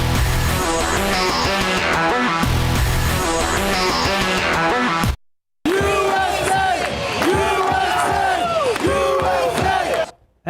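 Soccer fans at a World Cup watch party in a downtown San Antonio barbecue bar, supporters of San Antonio FC following USA against Wales, roar and chant loudly as a dense crowd, with a brief silent break midway.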